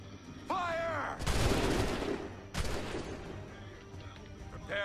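Musket volleys crack out in the Assassin's Creed III video game as a loud, booming fusillade with two big bursts and echoing tails, while shouted commands ring out nearby.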